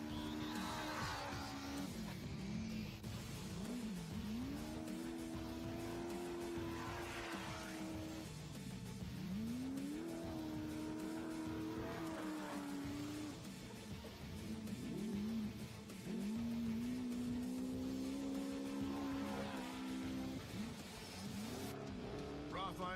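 Trophy trucks race up toward a summit in an off-road race, their engines revving and swelling in repeated waves under continuous commentary.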